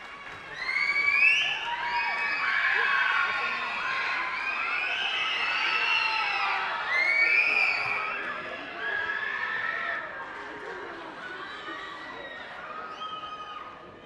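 Cheering and applause from the audience at a middle school concert fill the room. Loud, high-pitched whoops and shouts, many from children, swell in waves and then taper off toward the end.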